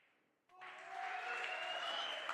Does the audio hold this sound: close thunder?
no